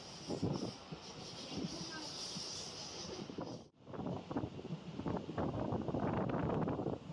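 Steady rumble and rushing wind inside a moving MEMU train in Tamil Nadu, with rhythmic rattling and a brief dip in the noise midway.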